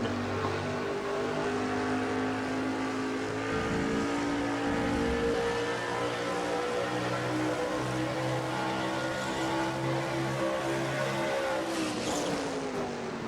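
Chevrolet race truck lapping Watkins Glen at close to 160 mph, heard on board as a loud, steady engine drone that holds a constant pitch before dropping slightly near the end.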